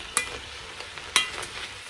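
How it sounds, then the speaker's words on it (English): Mushrooms sizzle softly in a pot while a utensil stirs them, making two sharp scrapes about a second apart over a low, steady frying hiss. "Give everything a stir."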